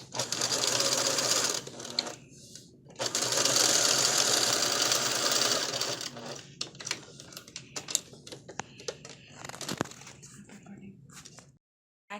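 A sewing machine stitching shoulder seams on fabric for a lacey flower girl dress, close and steady whirring bursts that stop and restart, with quieter gaps and clicks near the end.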